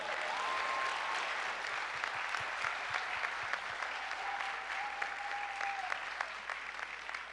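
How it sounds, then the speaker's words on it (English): A school audience gives a final round of applause after a guest speaker's presentation, steady sustained clapping from a room full of students, gradually thinning toward the end. "Let's give a final round of applause."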